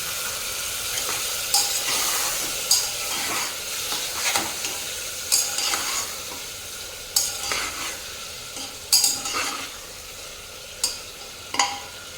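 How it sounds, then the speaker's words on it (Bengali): Mutton gravy cooked in a pressure cooker pan being stirred, with a steady low sizzle and repeated scraping strokes of the spoon against the metal, moderately close, no talking. "এই যে আবার নাড়িয়ে দিচ্ছি গ্রেভিটা"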